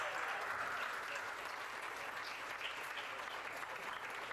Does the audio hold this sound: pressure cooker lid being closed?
no